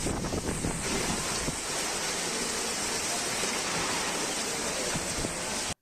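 Heavy night rain driven by wind in Tamil Nadu, a dense, steady roar of downpour and gusts filling the whole stretch at constant loudness, with no voices.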